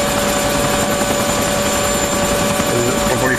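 A helicopter in the video game Arma 2 drones with a steady, loud rotor and engine roar throughout, constant and close, with voices talking over it.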